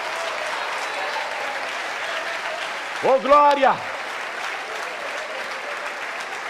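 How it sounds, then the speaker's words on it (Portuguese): Congregation applauding during a church service, steady clapping throughout at moderate level, briefly overlaid by a man's exclamation in the middle. "Vamos aplaudir mais."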